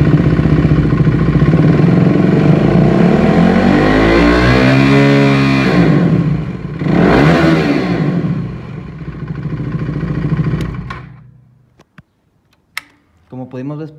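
A KTM RC390 sport motorcycle engine revs up toward 7000 rpm, a loud sustained rising and falling roar that fades out, followed by a few sharp clicks and brief sounds near the end.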